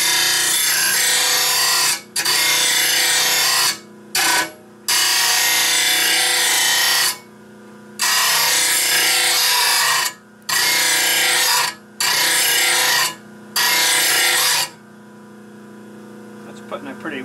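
A new grinder tool puts a bevel on the edge of a wooden table, loud abrasive grinding in repeated bursts of a second or two each, separated by short pauses, then stopping near the end.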